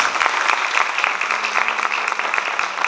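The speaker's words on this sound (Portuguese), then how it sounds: "palmas para a Amabile, pessoal." An audience at a medical symposium on neuromodulation bursts into continuous applause, dense, loud and even clapping filling the room for the whole stretch, with no speech over it.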